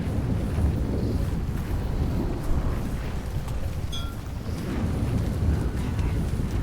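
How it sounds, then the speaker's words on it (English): Steady wind rushes while a boat sails the sea in Don't Starve: Shipwrecked, a continuous blustery whoosh with a faint watery wash and a few soft game chimes. "No, the wind is going the wrong way."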